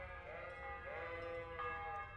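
Sheep in the video game Kingdom Come give a string of wavering bleats, one call sliding into the next at moderate volume, with a faint low hum beneath and no talking.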